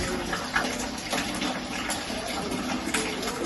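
Tap water pours steadily into a homebrew vessel, a soft, continuous rushing hiss with faint gurgles, fairly quiet and uninterrupted.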